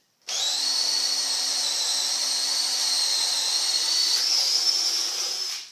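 A DeWALT drill bores through material under heavy load on second speed, giving a loud, steady high-pitched whine that holds for about five seconds with no talk over it.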